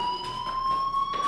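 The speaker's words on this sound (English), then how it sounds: "do you hear that fire alarm?" A fire alarm sounds in the video game Life is Strange, a loud, steady electronic tone held without a break, pulsing faintly in strength and heard alone.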